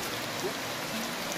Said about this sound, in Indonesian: Dan ini hujan masih terus turun, tidak berhenti ya.